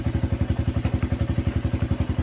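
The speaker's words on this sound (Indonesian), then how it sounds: "Ini nanti kita gas digeber-geber" Yamaha Vixion motorcycle engine running hot with its radiator coolant overflowing, heard close up as a rapid, steady, thumping idle-like pulse from the single-cylinder engine, loud and unbroken, with no talking.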